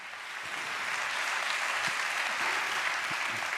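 An audience applauds at the Bob leta 2017 awards evening, broadcast on TV Maribor: steady, dense clapping from many hands, moderately distant and even throughout, with no talk over it.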